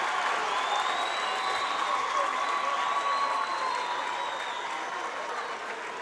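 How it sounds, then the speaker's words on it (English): A high school boys basketball crowd at a sectional final cheers and applauds in a sustained, loud roar of clapping and shouting, with no single voice standing out. "Listen to this crowd."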